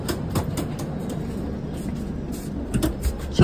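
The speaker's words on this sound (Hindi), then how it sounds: "ट्रेन चल पड़ी है" Passenger train rolling along in India, a steady rumbling carriage noise with faint rhythmic clatter and a few sharper knocks and bumps near the end, heard from inside the coach with no talk.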